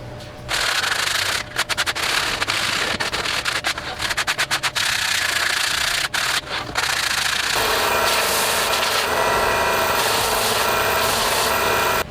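Frayed, chipped edge of an OSB seat board gets smoothed with a power sander, a loud continuous abrasive whir that stutters briefly in the first seconds, then shifts to a steadier, rougher rasp over the second half.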